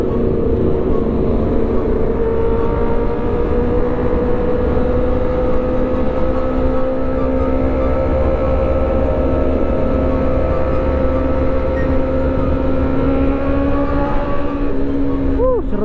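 Yamaha R6 motorcycle with an SC Project exhaust riding on a Sunday group ride, a deep, bassy, continuous engine rumble over wind noise, steady throughout.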